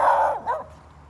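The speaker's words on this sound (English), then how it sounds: "There's a puppy." A puppy barks twice in quick succession, close and fairly loud, with a second softer yap fading into quiet residential street ambience.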